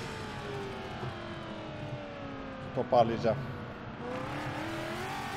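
Car engine revving in a rally racing video game, a steady rising engine drone running throughout with a short louder burst near the middle, under someone talking.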